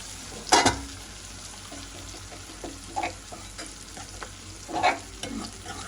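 Green chillies, curry leaves and onions sautéing in a hot pan, a continuous sizzle broken by several sharp stirring scrapes and clinks, close and clear with no talking.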